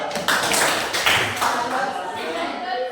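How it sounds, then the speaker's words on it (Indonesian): A school class claps their hands in a loose burst, several sharp claps close by, with some voices in the room. "Bagus, tepuk tangan dulu."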